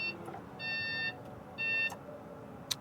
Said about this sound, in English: It's got your backup alarm.